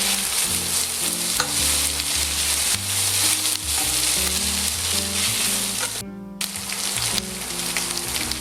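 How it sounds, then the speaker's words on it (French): Bell pepper frying in a pan with ground meat for a rice dish, a loud, steady sizzle that runs throughout with stirring scrapes and one brief dip in the hiss. "on met le poivron. C'est pareil, on va le faire suer"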